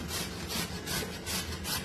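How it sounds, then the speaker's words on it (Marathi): Peeled red pumpkin grated by hand for sweet pumpkin puris, quick repeated rasping strokes close up, loud and rhythmic. "किसून घ्यायचं आपल्याला."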